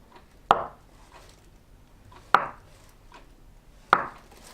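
Knife chopping ingredients for miso soup on a cutting board: three sharp, separate thuds spaced a couple of seconds apart, close and clear in a quiet kitchen.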